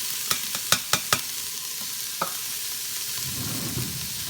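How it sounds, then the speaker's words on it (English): Onions, carrots and celery sautéing in an Instant Pot: a quick series of sharp clacks from the stirring spoon, then a steady close sizzle that swells slightly toward the end, with no talk. "I'm going to saute that up a little bit."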